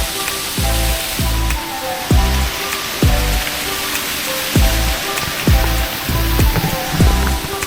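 Rain effects in the rainforest area of Evergreen Resort theme park in Shenzhen, China: a dense, loud hiss of falling water with recurring low swooping tones every second or so, no voices.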